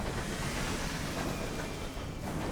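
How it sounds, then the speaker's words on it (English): A steam-driven space train in the video game Sunless Skies chugs and rumbles as a continuous heavy, noisy roar with low churning texture, loud and steady for the whole moment with no speech. "That's a bigger train, too."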